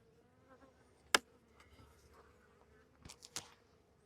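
Honey bees on hive frames during a hive inspection, with bees being shaken off, give a faint, low buzz throughout, broken by a few sharp taps and clicks.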